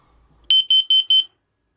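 A TPI Model 780 low-level carbon monoxide monitor's sharp, high-pitched electronic alarm beeps four times in quick even pulses after a faint click, loud and close.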